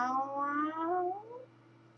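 A single drawn-out meow, a human voice imitating a cat, rising then sliding down before trailing off.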